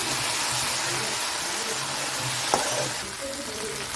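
Onions fry with ginger garlic paste in a pan for aloo fried rice, giving a steady, close sizzle with soft scraping stirs and a single brief clink partway through.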